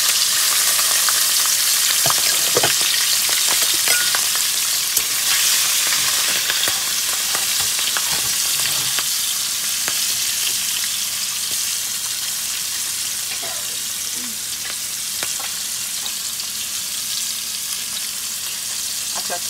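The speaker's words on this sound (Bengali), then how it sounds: "এখন দিয়ে দেবো কাঁচা লঙ্কাগুলো কুচিয়ে" Chopped green chillies fry hard in a pan of hot oil, giving a loud, bright, continuous sizzle with occasional clinks and stirring sounds up close and no talking.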